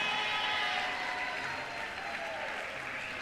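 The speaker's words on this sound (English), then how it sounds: "give your family, your friends, a round of applause" Steady, dense applause from a large audience at a doctoral hooding ceremony, filling the space evenly and continuing at a consistent level throughout.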